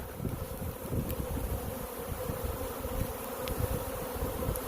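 A honey bee swarm hanging from a tree limb buzzes in a dense, continuous drone, close and steady, with faint wind in the background and no talking.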